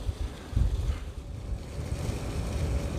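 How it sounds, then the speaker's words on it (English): A paddle steamer passes nearby on a river in Russia with a steady low rumble of engine and churning water, mixed with wind buffeting the microphone. "Right as another boat goes past us. Oh, this is a paddle steamer as well."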